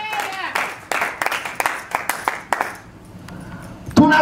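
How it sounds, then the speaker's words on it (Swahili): A church congregation claps for Jesus in quick rhythmic claps that fade after a few seconds, with a speaking voice over them. "Clap for Jesus"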